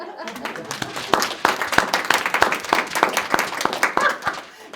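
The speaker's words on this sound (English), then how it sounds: "So, Christian went around the world again, so we're going to clap for him." Clapping from a small audience at a children's music academy recital, a moderate run of sharp, uneven hand claps that fades near the end.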